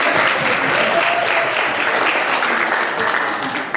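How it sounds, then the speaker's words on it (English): Audience applause from parents at a church Vacation Bible School presentation: steady, dense clapping from a crowd filling the room, loud and continuous for the whole stretch, tapering slightly at the end. "Let's give a round of applause."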